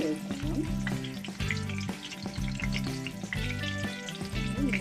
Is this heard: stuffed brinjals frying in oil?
yes